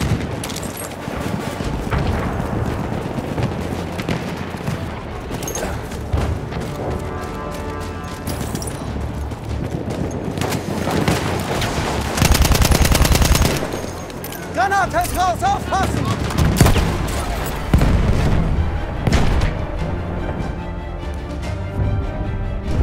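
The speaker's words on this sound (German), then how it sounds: "Da, feindliches Maschinengewehr." Enemy machine gun firing in the game Battlefield 1 during a Conquest match: bursts of rapid gunfire and other shots through a busy battle soundscape, with game voices talking at times.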